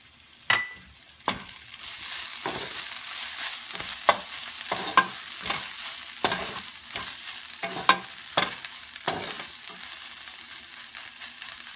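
Shredded chicken, kothu chicken, frying in a pan with green chilies and curry leaves: a soft sizzle beneath repeated sharp spatula clacks and scrapes against the pan, irregular and close.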